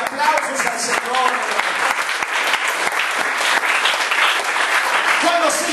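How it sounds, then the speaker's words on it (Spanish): A congregation applauds during a church service, loud sustained clapping from many hands lasting several seconds, with a voice speaking over the applause. "Venga de aplausos al Señor."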